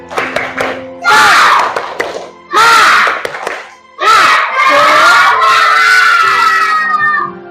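A group of Indonesian schoolchildren loudly chanting the 'tepuk semangat' clapping chant together in shouted bursts, with rhythmic clapping between the calls, energetic and close.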